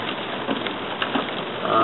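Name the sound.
rain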